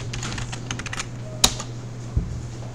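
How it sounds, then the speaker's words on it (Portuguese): Keys clatter in quick, irregular strokes as a password is typed on a computer keyboard in a quiet room over a low steady hum, with one sharper key strike standing out near the end. "Digitei a senha."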